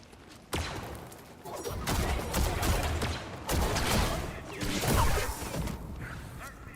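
Blaster fire in Star Wars Jedi: Survivor, a steady run of sharp bursts and crackling impacts over roughly six seconds, with voices talking throughout.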